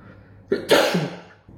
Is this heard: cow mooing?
no